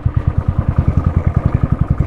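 Motorcycle creeping slowly along a muddy mountain road at Sach Pass, its engine chugging in a steady low pulsing rhythm close by, with no one talking.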